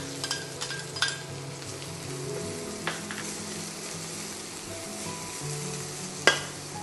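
Sliced ginger sizzles in oil in a pan beside bitter melon for a beef stir fry, a steady close hiss with a few sharp clicks of a utensil against the pan.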